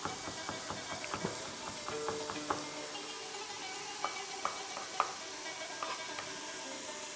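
Lamb tagine with apricots and orange being stirred in a pot as spices are added, steady clinking and scraping strokes over a soft sizzle, close and moderately loud, with no talking.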